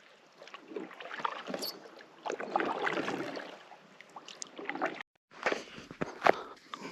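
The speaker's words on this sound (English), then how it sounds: "Just trolling just a slow paddle over to the island." A Durango kayak paddled slowly across a lake gives soft splashes and drips of water from the blade, with light knocks on the hull, close and fairly quiet, in an irregular rhythm.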